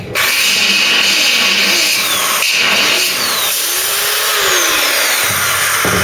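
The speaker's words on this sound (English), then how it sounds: "I'm just going to sand the front edge of the bottom of the B pillar" A power sander working on the front edge of the lower B pillar of a Mk3 Ford Cortina during restoration, a loud, steady high-pitched whir up close, with its tone shifting slightly as pressure changes.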